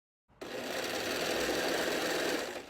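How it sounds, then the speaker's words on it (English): Sewing machine running steadily, stitching lining fabric from the armpit down the side seam, a continuous close mechanical whir that starts abruptly after a brief silence and holds for the rest of the clip. "I'm gonna sew from the armpit down the side on both sides"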